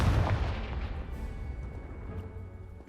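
A Confringo spell in Hogwarts Legacy blasts apart a pile of debris: one heavy, booming explosion at the start that rumbles and slowly fades over a few seconds.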